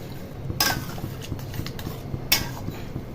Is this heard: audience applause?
no